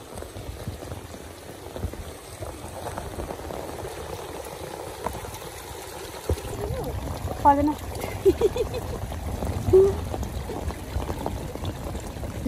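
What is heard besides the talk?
flowing water on the road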